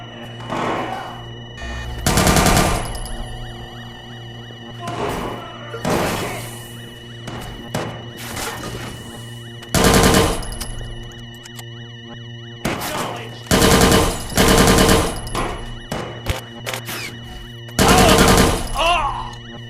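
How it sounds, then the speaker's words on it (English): Machine gun fire in the game Watch Dogs 2, several loud, close bursts of rapid shots spread through a tense ambient game soundscape with a steady low hum between them. "I think somebody's shooting a gun, okay?"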